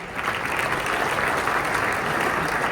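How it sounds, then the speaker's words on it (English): Steady applause fills a ceremony hall at a baseball writers' awards event during Hall of Fame weekend, dense clapping holding at an even level throughout. "we'll give a round of applause"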